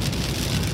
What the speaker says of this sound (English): I'd rather the rain happen now